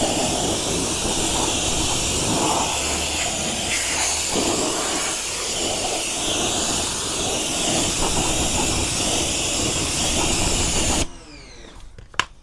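A car wheel, freshly treated with wheel acid, is rinsed with a pressurised water spray, producing a loud, steady hiss close by that runs unbroken for about eleven seconds and then cuts off abruptly to near quiet.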